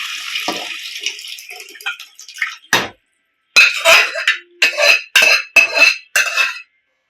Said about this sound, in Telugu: చింతపండు రసము ఇది కూడా ఇందులోనే వేసేద్దాం